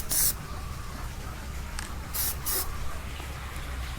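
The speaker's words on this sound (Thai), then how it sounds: "แล้วก็พ่นใส่หนังสือพิมพ์ดูว่าสีเริ่มออกหรือยัง" A can of Plasti Dip rubber spray paint is sprayed onto newspaper in three short, sharp bursts of hiss, one at the start and two close together later, with quiet between them.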